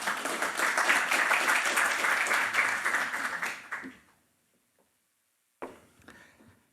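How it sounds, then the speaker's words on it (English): An audience gives a round of applause to welcome a speaker at a policy talk. Full clapping for about four seconds, then it stops dead into silence before a short faint burst returns near the end. "please welcome Chris with a round of applause"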